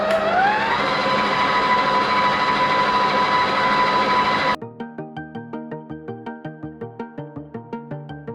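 A mixer turns slowly through cookie dough with flour, first as a steady motor drone, then as a regular chugging pulse that repeats at an even pace, close up with no voices.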